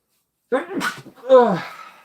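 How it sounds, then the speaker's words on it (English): A single sneeze bursts out after a short silence, a sharp breathy release followed by a voiced trailing sound, close to the listener. "I'm going to sneeze"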